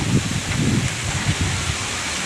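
Strong wind blows through leaves outdoors, a steady broadband rustle with gusty low rumbles throughout.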